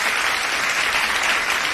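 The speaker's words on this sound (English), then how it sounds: "A big round of applause for Ms. Shriya." A crowd claps in a short, steady burst of applause at a graduation ceremony, dense and even throughout.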